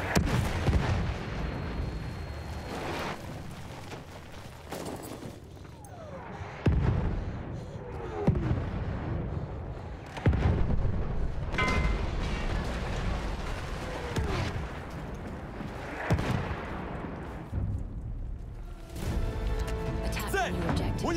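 Enemy artillery barrage in the Battlefield 1 game, heavy booming impacts landing at irregular intervals over a dense rumbling battlefield bed, with voices heard now and then.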